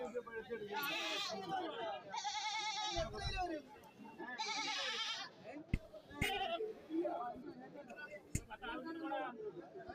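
Male goats at a goat market bleat loudly in repeated wavering calls, several overlapping, while people chatter in the background and a few sharp knocks sound nearby.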